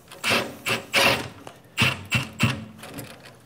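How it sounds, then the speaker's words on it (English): An impact driver runs screws down to mount a board, giving five loud, rapid hammering bursts close by, each lasting a fraction of a second with short pauses between them. "I can just come in here and run down the screws"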